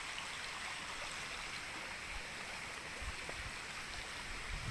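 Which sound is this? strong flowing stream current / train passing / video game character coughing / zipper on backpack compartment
strong flowing stream current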